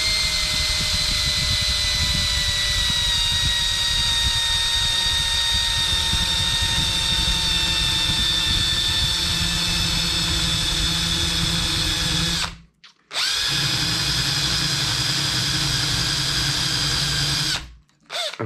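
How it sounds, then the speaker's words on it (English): A small electric drill whirs steadily at high speed with a whining pitch that drifts slightly, then stops briefly twice before spinning up again. "It's only a small drill, and the speed of the drill, the revolutions per minute,"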